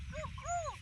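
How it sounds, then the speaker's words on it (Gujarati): A dog snarling and yelping in a scuffle with another dog on a farm field, short whines and yips at moderate distance over low background rumble. "કૂતરો લડો છે એ તો"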